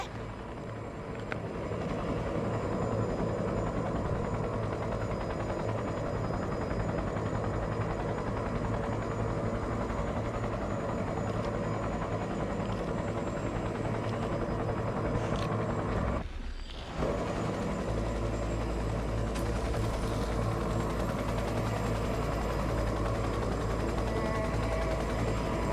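Aircraft taking off in the video game Cyberpunk 2077 Phantom Liberty: a loud, sustained engine drone with a brief dip partway through, then a deeper rumbling roar as it climbs.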